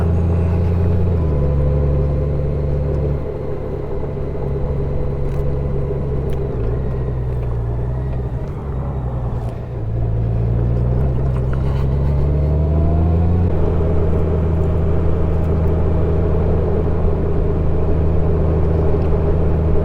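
A Honda Gold Wing DCT Tour motorcycle riding a dirt road on the way to Longmont, Colorado, its engine droning loud and steady throughout, with pitch shifts as the transmission changes gear, under continuous wind and road noise.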